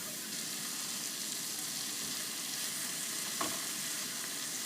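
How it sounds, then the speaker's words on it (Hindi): Ground spices for kebab masala fry in a pan, a soft continuous sizzle heard alone and fairly faint, with one brief stir near the end. "इन सब मसालों को अच्छी तरह से भूनेंगे"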